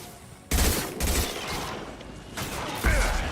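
Gunfire bursts in a space-combat video game, several loud volleys at irregular intervals with sustained noisy rumble between them.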